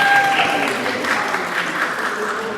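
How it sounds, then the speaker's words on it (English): Crowd at an Ambedkar Jayanti and Equality Day celebration in the Boston area gives steady, loud applause, a brief dense wash of clapping that stays even throughout. "Please give them a big round of applause."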